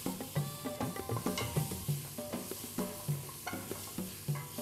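Garlic and ginger sizzle in a hot pan while a utensil stirs and scrapes them in quick repeated strokes, a soft frying hiss beneath the rhythmic clinks, with no talking.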